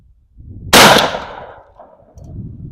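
A single loud, sharp shotgun slug shot fired over a chronograph outdoors, a sudden crack that rings out and decays over about a second, with faint background noise after.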